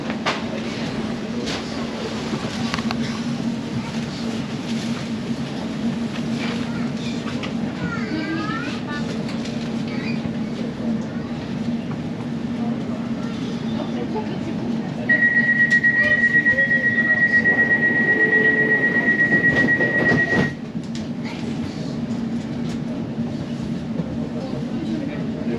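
London Overground train on the Lea Valley line to Chingford from Walthamstow Central, a steady rumbling carriage ride with wheel noise, a brief squeal, and a long high-pitched whine partway through, with announcements and voices in the background.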